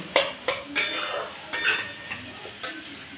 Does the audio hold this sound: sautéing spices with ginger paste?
yes